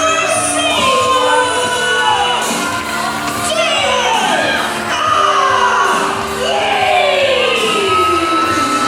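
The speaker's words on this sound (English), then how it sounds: "This capacity crowd here in the Action Building losing their mind" A capacity wrestling crowd inside an indoor venue roars and cheers loudly, with whoops and yells swelling in waves throughout.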